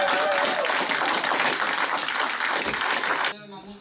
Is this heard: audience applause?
yes